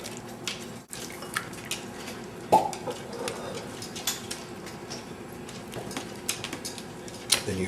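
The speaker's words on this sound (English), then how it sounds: "So we'll take some French onion soup, ladle it into the bowl." French onion soup is ladled into a bowl with soft liquid drips and light clinks of the ladle against the bowl, quiet and close, over a faint kitchen background.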